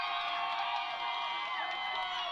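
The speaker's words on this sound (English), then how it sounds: "The crowd's getting into it." A football crowd cheers from the stands during a high school game between Kanab and Duchesne, a broad, steady, distant roar of voices filling the whole stretch without a break.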